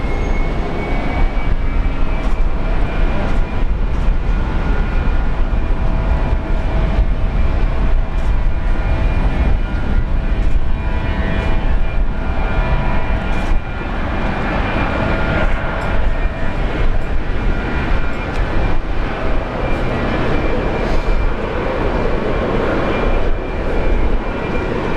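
A China Airlines Airbus A350 airliner lands and slows on the runway at Brisbane Airport with a loud, continuous roar of engines and rushing air. The noise holds steady for the whole stretch, with shifting tones as it decelerates.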